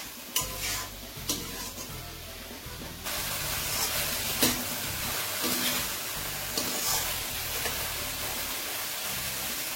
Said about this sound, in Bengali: আমি এখন টমেটোটাকে ভালো করে ফ্রাই করব।